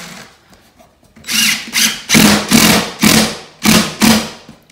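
A power drill drives 1¼-inch decking screws into a wooden floor during repair, giving five loud, separate whirring bursts of roughly half a second each after a quiet start.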